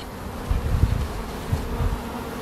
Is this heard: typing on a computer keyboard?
no